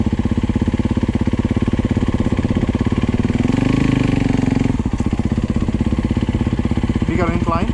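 A Yamaha YZ250 dirt bike engine runs close up with a rapid, pulsing idle, bogging and swelling as the rider tries to make it stall, the note briefly rising and then dropping back to a chugging beat.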